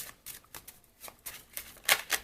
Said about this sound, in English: I shuffle the cards on camera